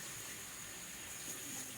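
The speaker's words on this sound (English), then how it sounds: "You turn it on, you want to put water in the bowl" A faucet runs water into a bowl with a constant bright hissing splash, steady and close throughout.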